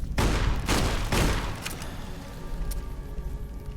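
Gunfire in the video game Fallout during a bug fight: several rapid loud bursts of shots in the first second and a half, then lighter scattered fire and game noise trailing off.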